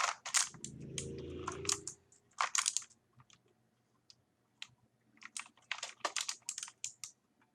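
A Havit HV-KB389L mechanical keyboard, 104-key and anti-ghosting, is mashed with many keys at once, heard close up as clustered bursts of clacky presses with gaps of near silence between them.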